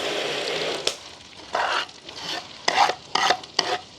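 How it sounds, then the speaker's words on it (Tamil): Half a kilo of onions with green chili and curry leaves being stirred and sautéed in a pan, intermittent scraping stirs and soft sizzling in irregular bursts, close and fairly loud. "இந்த 1/2 கிலோ வெங்காயத்தையும் நான் என்ன செய்ய போகிறேன்னா வதக்கி தான் எடுக்க போகிறேன்"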